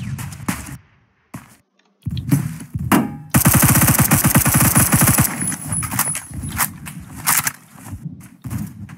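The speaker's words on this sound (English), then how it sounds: "Oh no! I'm being shot at!" Rapid automatic gunfire from the Roblox first-person shooter Phantom Forces, a loud dense burst of closely spaced shots that runs for several seconds, with scattered single shots before and after and no talk over it.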